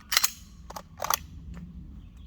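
Sharp dry-fire clicks from a handgun during draw practice, a few close, crisp metallic snaps in a quiet room with short pauses between them.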